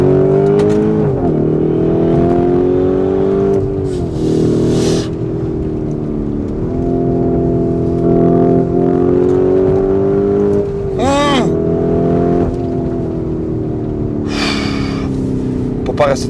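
Lamborghini Urus Mansory engine roaring loudly from inside the car, revving in rising and falling surges with gear-change dips, while someone talks over it.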